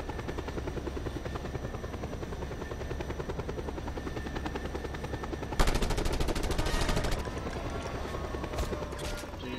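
Helicopter rotor thrumming steadily and loudly in Just Cause 2 gameplay, with a burst of rapid gunfire joining in around the middle.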